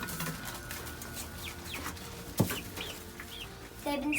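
Five-week-old Sapphire Gem chicks cluck and peep softly in a coop, several brief chirps scattered over a steady background hum with one louder sound near the middle.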